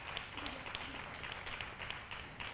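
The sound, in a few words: audience applause in church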